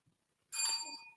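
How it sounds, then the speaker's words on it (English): A bell is struck once in a stage hall and rings out clear and bright, its tone sustaining and slowly decaying over the remaining second. "ring the bell"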